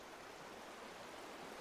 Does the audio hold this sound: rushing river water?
yes